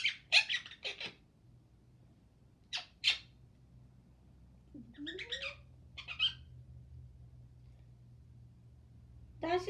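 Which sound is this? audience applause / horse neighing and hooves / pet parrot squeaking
pet parrot squeaking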